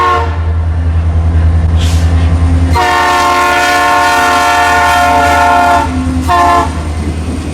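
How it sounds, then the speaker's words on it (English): A westbound CN freight train on the Manistique Subdivision rumbles past close by, its air horn blaring in long loud sustained blasts over the heavy roll of the cars, then easing back to engine drone. "We would get a westbound train coming from the east."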